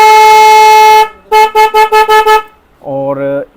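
A Hero Karizma XMR motorcycle horn blares for about a second, then gives six quick beeps, followed by a lower, wavering honk.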